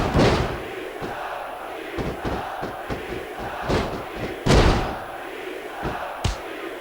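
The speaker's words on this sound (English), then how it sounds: "Now the fans start to cheer for him." A wrestling arena crowd in the SmackDown vs. Raw 2006 video game roars continuously, punctuated by heavy thuds and slams from ring action, with the crowd noise swelling loudly at times.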